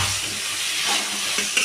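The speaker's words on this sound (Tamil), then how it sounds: "தக்காளியை போட்டு நல்லா கிண்டிக்கலாம்." Tomatoes with salt stirred in a hot frying pan, giving a steady close sizzle and hiss with soft scraping of the spoon throughout, no voices.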